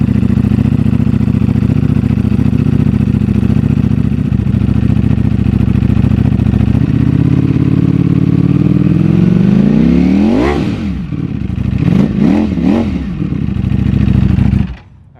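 A Ducati motorcycle engine idles loudly and steadily up close, then blips through several sharp rising-and-falling revs before shutting off.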